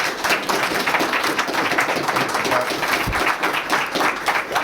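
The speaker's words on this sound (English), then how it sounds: "Give them a round of applause." An audience at a historical society talk about a Santa house breaks into sustained clapping, a dense, even patter of many hands close by that carries through without pause.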